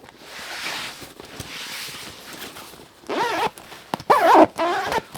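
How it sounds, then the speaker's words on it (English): The zipper of an Evergoods MPL22 backpack is pulled quickly back and forth a few times, with soft rustling and handling noises before the louder zipping near the end. "The zippers are very smooth."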